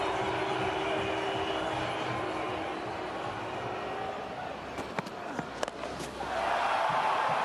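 A cricket stadium crowd at a West Indies Test match roars in a sustained, fairly distant wash of cheering, broken by a few sharp claps or bangs near the end before the noise swells again.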